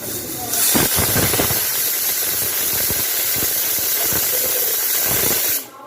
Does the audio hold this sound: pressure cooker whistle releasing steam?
yes